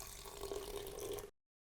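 Water pours into a blender for a vegan Indian curry sauce, a steady splashing gush lasting just over a second before cutting off abruptly, with no talking.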